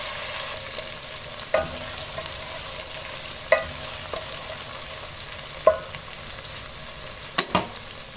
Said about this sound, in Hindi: इसको हल्का सुनहरा होने तक फ्राई करेंगे